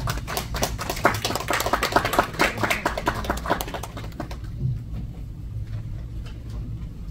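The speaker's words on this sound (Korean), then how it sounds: "하나님께 영광의 박수 올려드리겠습니다" A church congregation claps in praise to God, many hands in a dense, lively patter that thins out and softens after about four seconds, leaving scattered faint claps.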